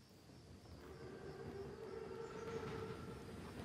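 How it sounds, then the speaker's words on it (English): An armored Panzerzug train arrives in Call of Duty WWII, a faint, steady rumble with a sustained whistle-like tone that swells slowly over several seconds. "Train's right on time."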